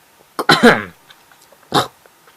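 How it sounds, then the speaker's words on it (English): A short, rough throat clearing with a couple of raspy bursts, followed a moment later by another brief clearing sound, close and fairly loud. "Sorry, I have to clear my throat."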